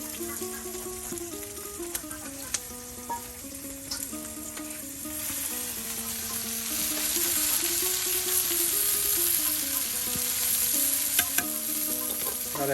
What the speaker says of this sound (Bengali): এই যে পেঁয়াজটা কুচি দেওয়া হচ্ছে এখন দেওয়া হচ্ছে মরিচ কুচি সব একসাথে একদম তেলে একদম ভেজে নেওয়া হচ্ছে